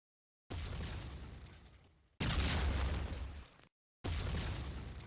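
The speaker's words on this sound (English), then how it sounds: "we had 2 explosions on land and 1 fell into the river." Three heavy mortar shell explosions boom one after another in the video game PySnip, two on land and one into a river, each a loud burst that rumbles and slowly fades before the next.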